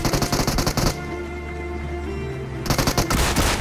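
Rapid automatic gunfire in PUBG Mobile rattles in a steady rhythm, pauses under a sustained tonal background, then resumes in another fast, loud burst.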